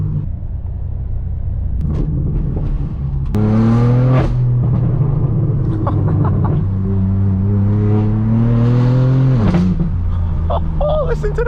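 Straight-piped BMW M4 F82 roaring through Hollywood streets, a loud continuous exhaust drone with rising revs and a sharp gear shift near the middle, people exclaiming over it.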